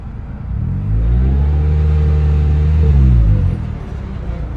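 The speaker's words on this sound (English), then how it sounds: "worst metal grinding noises that I have ever heard" A turbocharged Toyota Corolla with a blown transmission gives off a loud, steady mechanical drone and rumble for several seconds, its pitch swelling and then falling away, with no talking.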